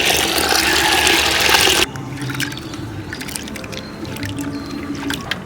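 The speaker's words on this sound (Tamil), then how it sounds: "உளுந்த கழுவி எடுப்போம்." Urad dal gets washed in water, a loud rushing pour for about two seconds that drops to softer sloshing, trickling and small clinks close by.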